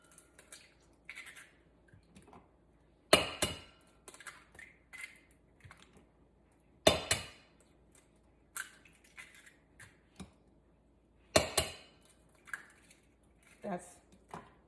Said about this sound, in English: Okay, so we're just going to crack each egg.